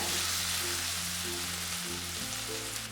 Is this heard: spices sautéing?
yes